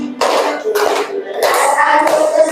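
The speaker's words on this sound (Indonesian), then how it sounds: "Sambil tepuk tangan nggak apa-apa, biar semangat." Students in an Indonesian classroom clap along while singing a national song together, rhythmic hand claps mixed under loud group singing voices, close and lively.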